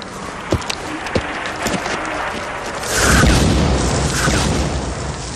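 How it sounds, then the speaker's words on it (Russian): Artillery shell explosions in a war film: a few distant thuds, then a heavier rumbling blast that swells and lingers as a broad roar over several seconds. "Артиллерия!"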